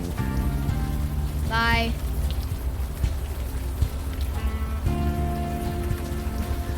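Rain falls in the video game Unavowed, a steady hiss of rain on a surface running under game music and tones, with brief speech over it.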